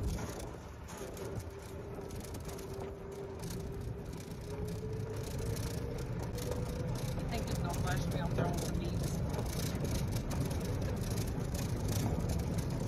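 A modified golf cart drives along with a steady motor hum and whine that rises slightly as it picks up speed, joined by road and wind noise.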